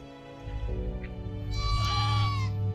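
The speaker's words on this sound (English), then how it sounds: "We'll go see the baby goat because she wants us to come see her." A baby goat bleats loudly and close by in a June garden, one long wavering cry with a rising, strained middle section and no talk over it.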